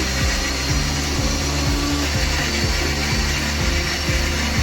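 A kitchen mixie grinder runs steadily, grinding masala for a village-style avare bele sambar, with a loud continuous whir and a regular clicking, ratcheting pulse throughout and no talk.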